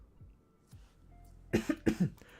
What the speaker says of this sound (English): I've had the worst fucking cough since I got back from Newcastle